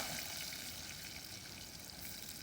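Onion dropped into a sizzling prawn curry cooking outdoors by a river gives a steady, soft frying hiss that continues without a break.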